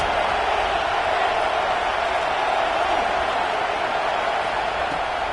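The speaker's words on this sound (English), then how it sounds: "Listen to this crowd just shaking the girders of this place" A packed football stadium crowd roars in a dense, sustained wall of noise, loud and unbroken while the opposing offense lines up.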